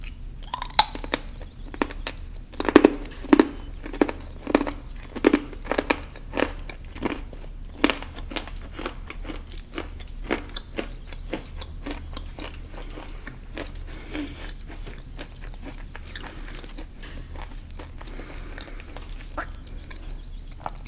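Crunchy banana chips bitten and chewed close up, a run of sharp, crisp crunches that come thick and loud early on, then settle into steadier, softer chewing crackles with no talking.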